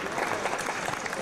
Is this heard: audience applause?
yes